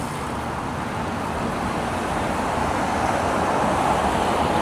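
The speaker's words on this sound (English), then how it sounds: "But the cars take up way more space and they make way more noise." Steady roar of city street traffic in San Francisco, cars and other vehicles passing in a dense, continuous wash of road noise that swells slightly toward the end, with no speech.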